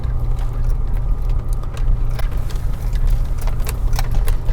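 A car moving slowly over muddy ground, a steady low engine rumble with scattered squelching and knocking noises from the wheels, close and continuous.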